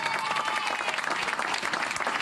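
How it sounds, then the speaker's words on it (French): A crowd at a municipal campaign gathering applauds loudly for the speaker's mother, a thick, continuous roar of clapping that holds steady throughout. "on peut l'applaudir"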